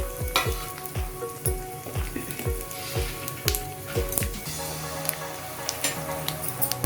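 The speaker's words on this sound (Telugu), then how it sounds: "ఆ పోపులు చక్కగా ఇలా వేపుకోవాలి" Tempering spices with asafoetida sputter and pop in hot oil, with sharp rhythmic clinks of a spoon stirring the pan close by.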